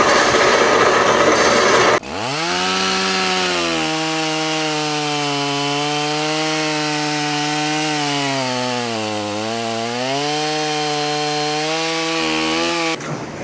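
A power saw cutting through wooden spindles, whining with a steady sustained tone that dips and rises in pitch as the blade loads, starting abruptly after a brief rough burst and running loud and close throughout.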